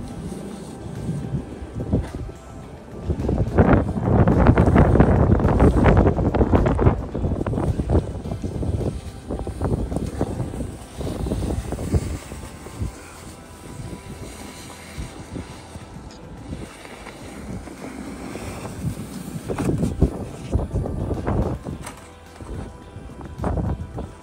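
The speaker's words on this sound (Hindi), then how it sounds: "ये देखिए अब हवा चलना भी तेज हो गई है।" Strong wind blows during a heavy snowstorm in Montreal, Canada. Loud, roaring gusts buffet the microphone, swelling and easing over about twenty seconds, with the strongest surge early on.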